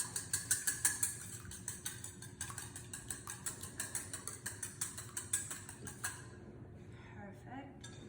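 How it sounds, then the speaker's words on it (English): Eggs whisked for homemade lasagna pasta, a quick run of rhythmic metallic clicks against a bowl, close and steady, then stopping near the end. "So I'm just going to give these guys a quick whisk just to break them up."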